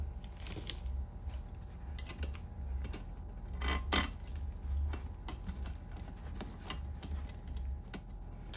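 Screw being started by hand into a patio sofa frame during assembly, heard as faint, irregular clicks, ticks and small mechanical rattles scattered over a low background hum.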